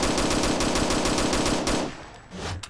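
An M14 rifle in the shooter game PointBlank fires a fast, even string of loud close shots that stops abruptly near the end, leaving a quieter tail.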